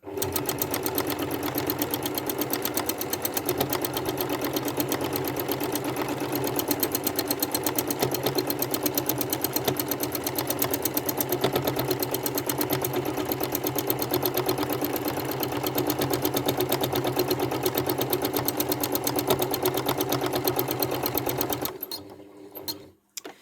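A domestic sewing machine runs steadily and continuously while stippling in free-motion quilting, a close, even mechanical whir that stops near the end.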